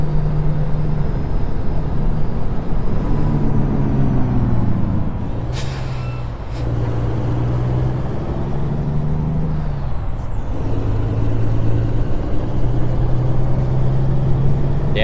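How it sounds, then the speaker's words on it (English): A truck engine in American Truck Simulator drones loud and continuous with a steady low hum, its pitch shifting between gears, and air brakes hiss briefly twice. "that engine definitely sounds a little bit better"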